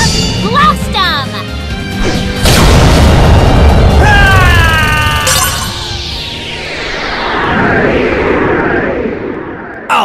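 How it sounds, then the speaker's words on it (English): A monster attack blast from the Yu-Gi-Oh Duel Links card game, with Juggernaut Liebe firing: a loud booming, crashing burst of game effects with sweeping tones and rumbling impacts, mixed under character voices. "Juggernaut Liebe, blast him!"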